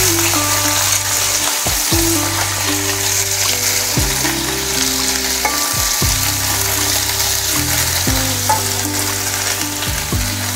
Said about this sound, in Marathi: तेल छान गरम झाल्यानंतर आपण स्वच्छ धुवून घेतलेली कारली टाकणार आहोत।